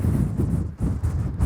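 Strong wind on exposed Min Beach in Shetland buffets the microphone in a continuous low roaring rumble with gusty surges, no voices.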